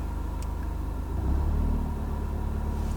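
Volkswagen Golf R engine at idle with about 400 bhp, changing driving mode: a steady low rumble that swells into a deeper, louder drone partway through and then settles, heard close up with no talk.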